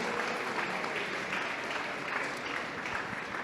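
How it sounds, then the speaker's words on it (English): A banquet crowd applauds the Hall of Fame inductees at a tennis hall of fame dinner, with steady, dense clapping that keeps up evenly throughout and has no voices over it. "big round of applause for all of our Hall of Famers"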